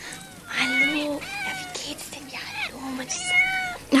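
A cat meows repeatedly from inside a basket in a German radio play, its rising and falling cries recurring through the scene at close range, mixed in with voices.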